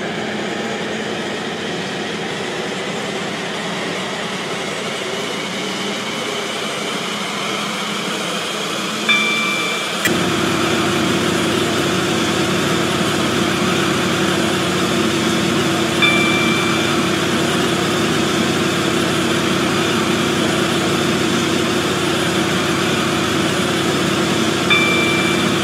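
Class 68 train running in a Roblox-style railway game, a steady loud rolling rumble with a constant low engine drone that thickens after about ten seconds, plus faint periodic higher tones, with no talk.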